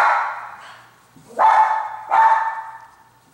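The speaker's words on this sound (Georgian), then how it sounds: "ნერვიულობს ძაღლი." A nervous dog gives three sharp, loud barks close by, spaced about a second apart, with quiet between them.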